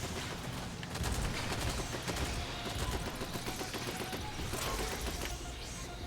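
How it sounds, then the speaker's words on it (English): Handgun shots hit bugs in the video game Aliens: Fireteam Elite as rapid, quiet popping bursts among a busy, muffled battle din that carries on throughout. "Oh, I'm killing the bugs with my handgun,"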